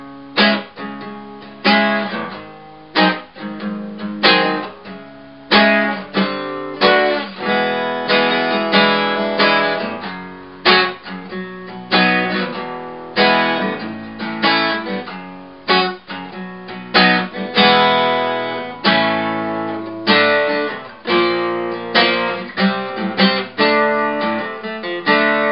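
Guitar playing the B section of a song: a steady, dense run of strummed and picked chords and riffs lasting about twenty-five seconds, clear and continuous with no talking.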